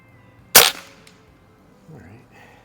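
A single sharp shot from a Beeman 1358 underlever air rifle during backyard plinking, a loud crack that decays quickly into quiet, followed by faint low background sounds.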